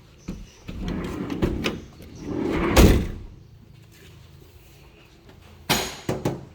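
Doors of a used silver car being shut, one solid thud near the middle and a quick cluster of sharper closing knocks near the end, heard close up against a quiet outdoor background.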